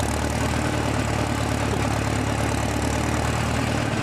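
Small engine idling steadily after being cranked and choked to start, a constant low mechanical rumble with an even pulse, close and loud with no voices.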